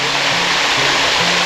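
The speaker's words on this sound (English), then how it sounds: "Do they have a name for this waterfall?" A waterfall on a creek in the Appalachian backwoods pours in a loud, steady, broadband rush, close by and uninterrupted throughout.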